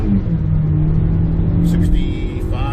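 A 2020 Kia Soul GT Line Turbo engine revving hard toward its redline, a loud rising drone with a climbing whine near the end, recorded from inside the car.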